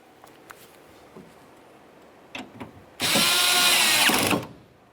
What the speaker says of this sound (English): Now that we have all of our mounting bolts started, let's snug them up.